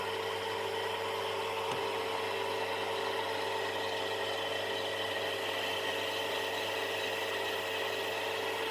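A machine bores out thin brass bushings from the oil damper of a WW2 Zundapp KS600 motorcycle, producing a quiet, steady mechanical whir and hum with one faint knock partway in; nobody speaks.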